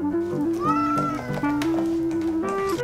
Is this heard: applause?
no